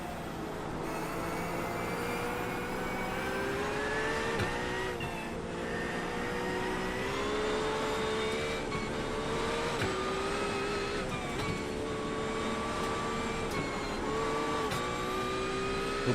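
A Porsche 911 GT3 R race car engine at Summit Point in the rain, heard from onboard as a sustained high-pitched roar rising and falling through gear changes, continuous and alone.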